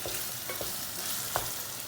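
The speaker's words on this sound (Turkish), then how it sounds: "bir tane yeşil biber, bir tane kırmızı biber, salça, kıyma. Kavuruyorum bu şekilde." Ground beef frying in a pan with green and red peppers and tomato paste, a steady close sizzle with a few soft scrapes of stirring, and no talking.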